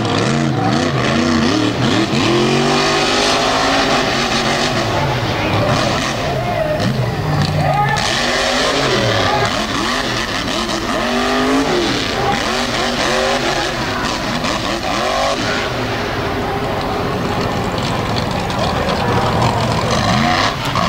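A monster truck, the Green Machine, roars through a dirt-arena freestyle at an Eastern New York show, its engine revving and surging continuously with loud, rough bursts under a steady announcer's commentary and crowd noise.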